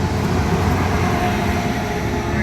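A Tri-Rail commuter train at a Florida station, a loud continuous rumble with a low mechanical hum and a faint rising whine near the end.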